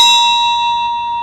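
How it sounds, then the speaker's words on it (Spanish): A single struck bell rings out with a clear, pure ringing tone that decays slowly over the whole moment, alone with no talk. "esta campana también está transmitiendo una onda, pero que yo solo puedo codificar con el oído"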